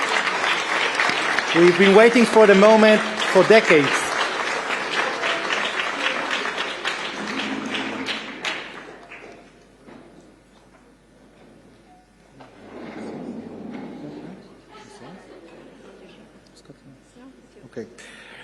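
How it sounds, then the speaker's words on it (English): An audience applauds at an embassy land allocation ceremony, a burst of clapping in the opening seconds that fades, followed by someone speaking at a podium. "Let's give a big round of applause for this really historic event."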